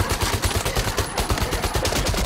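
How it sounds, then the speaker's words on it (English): Machine gun fire from a Quentin Tarantino war film scene comes as a loud, rapid, continuous stream of close, clattering shots. "Hitler just takes a machine gun to the face"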